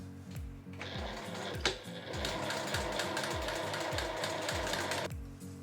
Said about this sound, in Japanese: こっちも同じようにして この表に出る面だけにステッチを入れていきます。